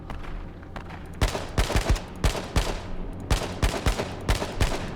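Gunfire in the battle royale game H1Z1: King of the Kill, sharp bursts of shots cracking in quick clusters, loud and close, repeating over several seconds against a low game-ambience rumble.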